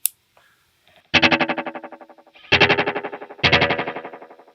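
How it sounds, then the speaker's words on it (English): Guitar notes through a Fender Hammertone Delay pedal in digital mode, each strike followed by a clear train of evenly spaced repeats that fade gradually while keeping their brightness. Three loud phrases ring out with no talking. "You can hear in digital mode how those repeats retain their quality all the way through."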